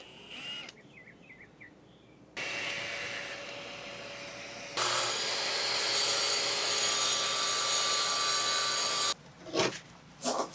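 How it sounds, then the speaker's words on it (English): A sink hole is cut through a fiberglass and Coosa countertop. The saw buzzes loud and close in long continuous stretches separated by short quiet gaps, and no one speaks. "we got the first cut done and made a nice hole for the sink"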